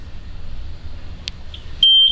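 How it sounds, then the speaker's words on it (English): A Miller Trailblazer 325 welder's control gives a couple of short chirps, then a steady high-pitched electronic tone, close by over a low background rumble. "And you're gonna hear a series of beeping."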